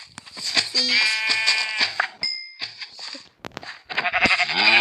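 Several sheep bleat in the Minecraft game, close and loud, giving a quick run of overlapping wavering bleats with short gaps between them and no speech.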